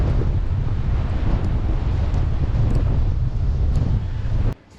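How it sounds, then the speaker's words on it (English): Strong wind buffets the microphone outdoors with a steady, loud low roar and gusting rumble that lasts throughout, then drops off abruptly near the end. "I wasn't kidding about the wind."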